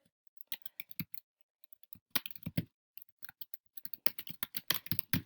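Typing on a computer keyboard, close and fairly quiet, in irregular bursts of key clicks with short pauses between runs.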